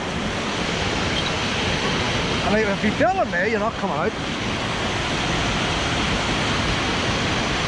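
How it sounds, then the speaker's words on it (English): A twisting waterfall in Ness Wood, Londonderry, roars as a constant, full rush of falling water close by, with a person briefly talking over it midway. "You've got the waterfall on top and the waterfall underneath."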